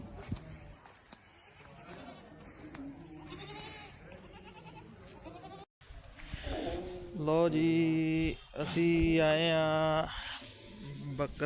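Goats on a goat farm give loud, wavering bleats nearby, several calls in the second half, with people talking in the background before and between them.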